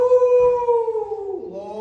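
A performer's voice imitates a werewolf howl at a live spoken show at Glasgow's Flying Duck. The single sustained, loud howl glides slowly downward and then drops lower at the end.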